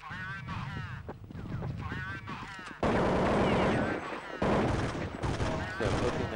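FAMAS rifle fire from Counter-Strike 1.6, heard during a match at a tournament semi-final, first sounds faintly under a commentator's voice, then breaks into loud, dense bursts of rapid shots with brief gaps between them.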